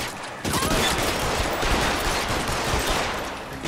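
A loud, close fusillade of gunfire roars continuously for over three seconds during a tunnel shootout in the L.A. Noire video game, dense and unbroken after a brief quiet start.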